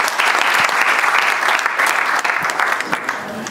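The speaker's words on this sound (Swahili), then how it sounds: "Niongezee makofi tafadhali." A seated audience at a talk by Dr. Grace Faraja breaks into sustained applause, a dense, loud wash of many hands clapping that carries on evenly without a break.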